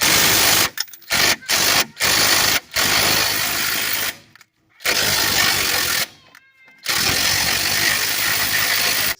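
Half-inch impact wrench breaking loose a rusted nut on a 2004 Toyota Sienna front knuckle, loud close bursts of rattling hammering, short stuttering pulls at first, then longer sustained runs separated by brief silences.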